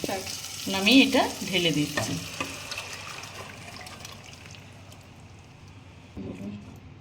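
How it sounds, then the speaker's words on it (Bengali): Vegetables are tipped into a hot pan for an oil-free Bengali summer vegetable curry with jalbori, setting off a burst of sizzling and stirring that fades to a soft simmer, with a brief stir returning near the end. "তো এখন আমি এটা সবজিটা ঢেলে দিচ্ছি।"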